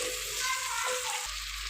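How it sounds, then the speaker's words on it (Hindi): Chicken fries with onions in desi ghee with a continuous, close sizzle and faint stirring. "तो उसके बाद मैंने डाला है बीच में चिकन।"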